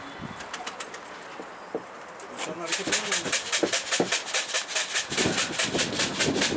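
Pigeons flap and coo up close, a quiet stretch giving way to a busy burst of wingbeats and shuffling, with a voice speaking over part of it.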